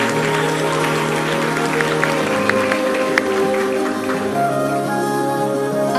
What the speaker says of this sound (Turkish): coşkulu bir alkış ve coşkulu bir müzik eşliğinde devam edebiliriz